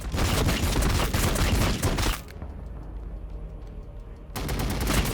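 Heavy gunfire rattles through a Warhammer 40,000: Battlesector battle, dense and loud for about two seconds, dropping to a quieter rumbling stretch, then resuming in a loud burst at the end.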